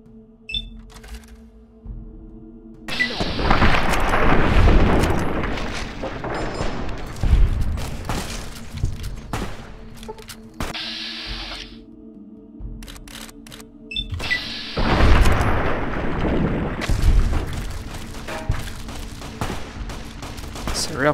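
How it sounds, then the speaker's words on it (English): A lever action shotgun fired repeatedly in Fallout: New Vegas, loud booming blasts in clusters with mechanical reloading clicks between volleys, alongside other game combat noise. "So let's use the lever action shotgun,"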